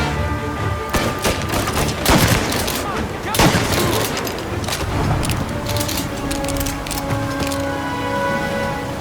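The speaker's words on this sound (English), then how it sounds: "create the sense that these are life and death gunfights and that every bullet counts" Gunfire in a gunfight in the video game Mafia Definitive Edition, dense overlapping bursts and single sharp shots with booming impacts, loud and continuous over a game score and voices.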